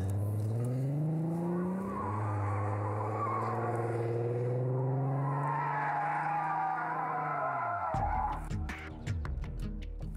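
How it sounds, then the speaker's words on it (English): A car held in a long drift, its engine note steady and loud with harmonic bands rising slowly, then a sharp drop and crackling tire noise near the end; no talk. "Can you keep that drift going a little bit longer?"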